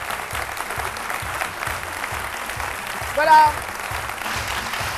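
A studio audience on the RTI 1 midday TV show applauds an agricultural researcher and inventor as he arrives, with steady clapping beneath a host's brief speech.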